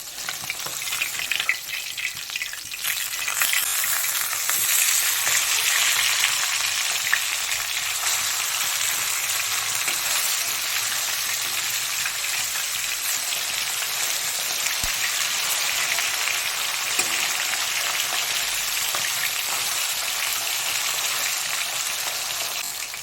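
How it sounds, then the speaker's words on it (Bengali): Fasha fish frying in hot oil in a pan, a loud, dense sizzling hiss that crackles steadily near the listener for over twenty seconds, with faint occasional clicks and no voices. "মাছের এক পিঠটা ভালো করে ভাজা হয়ে গেছে। এবার মাছটাকে উল্টে নেব।"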